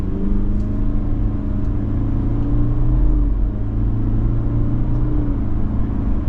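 A 2025 Subaru Forester Sport pulls away from a stop, its engine drone and road rumble holding steady and loud throughout, heard from inside the cabin with no talking.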